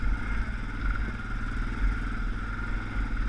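Motorcycle crawling over rocky terrain in low gear, the engine holding a steady low idle-like drone with faint clatter, close and even throughout.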